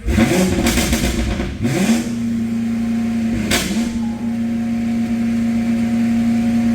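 Porsche 911 engine being coaxed to start: a few sputtering cranks and blips, then it catches and settles into a steady idle after one more rev, close and loud, with no talking.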